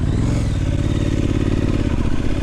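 A 2021 Triumph Street Scrambler motorcycle pulling away, its engine a steady, loud rumble mixed with heavy wind and road noise, close to the rider throughout.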